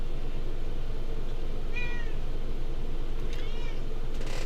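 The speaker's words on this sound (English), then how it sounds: "My cat is joining our meeting here." A pet cat joining an online meeting lets out two short meows a moment apart, at moderate distance, over a steady low room hum.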